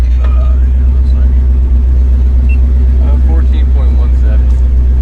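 A 53-year-old truck rolls down the road, its engine and road noise forming a steady, loud low rumble throughout, with people chatting over it.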